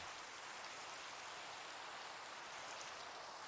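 Steady rain pours in Minecraft's rain weather, a soft, even hiss of falling drops with no breaks, heard alone and fairly faint.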